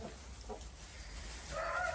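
Brahma hens of partridge colouring, blue laced and gold laced, clucking softly in an outdoor run, quiet and somewhat distant, with brighter calls rising near the end.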